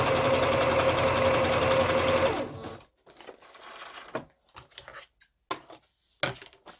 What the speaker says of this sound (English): So I'm going to go with zigzag stitch for this, just to hold it down a little bit more.